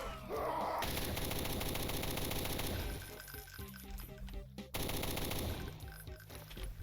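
A rifle fires in rapid automatic bursts in Doom with Project Brutality. The shots are loud and dense, with a brief pause before another burst, and some metallic clinks are mixed in.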